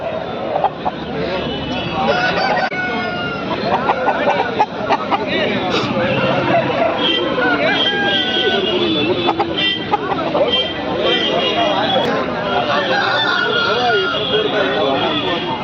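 Aseel roosters and hens at a busy Krishnagiri poultry market, with clucking and crowing calls scattered under constant crowd babble, nearby talking and passing traffic noise.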